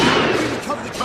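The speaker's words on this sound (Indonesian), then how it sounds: "Namun baku tembak pun terjadi." Gunfire rattles through a film gunfight between police and gangsters, a dense, loud burst of shots continuing over the whole second with voices mixed in.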